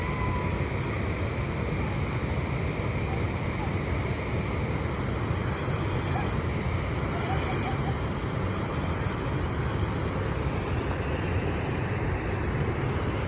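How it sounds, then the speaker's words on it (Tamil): Water pours steadily into a filled village pond beside the Tenkasi–Tirunelveli highway in Tamil Nadu, a continuous broadband rush that stays loud and even throughout with no pauses. "தண்ணி சூப்பராக போயிட்டுருக்குங்களே."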